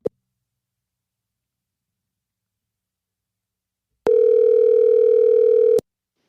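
A telephone dial tone sounds while a call is being placed: after a brief click and several seconds of silence, one steady, clear, buzzing tone holds for under two seconds and then cuts off abruptly.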